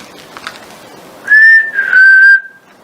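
A person whistles two clear, sustained notes in a row, the second held longer and gently falling, loud and close against a faint, hissy background.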